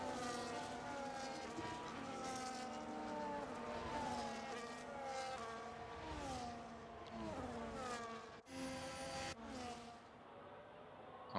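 Race cars on a formation lap in Abu Dhabi, several engines whining past one after another with rising and falling pitch, a steady stream of nearby passes rather than full-speed racing.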